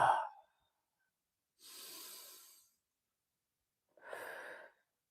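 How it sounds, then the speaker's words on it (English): Two slow, deep breaths drawn in a quiet room, each a soft airy rush lasting about a second, separated by silence, close and clear with no talk. "So let's take a deep breath together."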